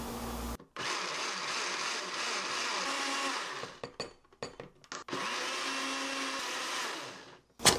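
A blender grinds mugwort with a little water in loud, steady bursts, stopping briefly mid-way with a few short pulses and clunks before running continuously again.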